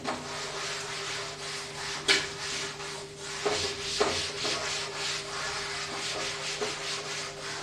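Writing is rubbed off a classroom board with a steady, close scrubbing swish that carries on throughout, with a few knocks.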